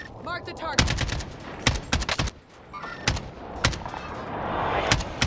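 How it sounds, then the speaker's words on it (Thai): Bursts of gunfire crack out in scattered volleys, some rapid like automatic fire, in a zombie-mode video game, over a steady background hum, with faint voices mixed in. "เฮ้ยนอกวงเขายิงกันว่ะ"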